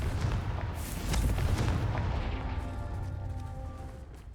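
A Confringo fire blast spell explodes in Hogwarts Legacy, a heavy booming blast with a rumbling low tail that fades slowly over several seconds. No talking.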